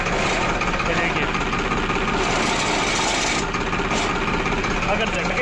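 A tractor engine runs steadily with its live PTO pump engaged and still turning, though the clutch pedal is fully pressed, giving a constant droning rumble with a dense mechanical whir throughout, close and loud, with someone talking over it.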